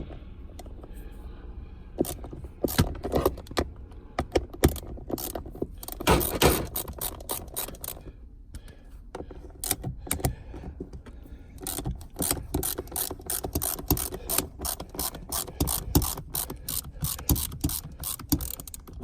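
Ratchet wrench loosening the four bolts for a short shifter install, bursts of rapid metallic clicking up close with pauses and a few clunks between, growing into a long steady clicking run toward the end.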